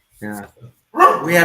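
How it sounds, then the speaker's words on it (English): A pet dog barks a couple of times at close range, short harmonic yelps in a quiet room, followed by a person beginning to speak. "sorry about my dog"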